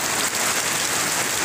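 Heavy rain pours steadily over the village of Mentawak, a dense, even hiss of drops striking surfaces close by and filling the whole moment without pause, with no voices.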